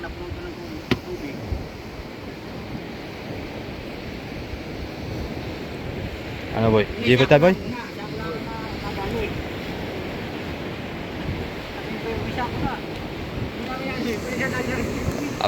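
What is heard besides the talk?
sea waves on a rough sea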